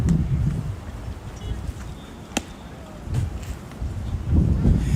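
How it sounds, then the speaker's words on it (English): Wind buffeting the microphones at a high school baseball field, a low rumbling roar that rises and falls in gusts, with a single sharp knock partway through. "we've got a wind that's whipping through here right out of the west"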